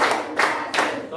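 Classroom of students clapping together to a counted pattern led by a teacher, short bursts of hand claps with a spoken count in between.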